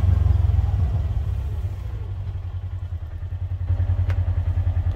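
A Polaris Ranger XP 1000 utility vehicle driving in standard mode, its engine giving a loud, steady, pulsing rumble with rattling clatter that eases briefly and then surges again, close and continuous with no talk.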